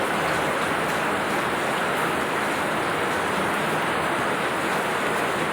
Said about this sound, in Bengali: সেই বাইরে আওয়াজ হচ্ছে শিলের,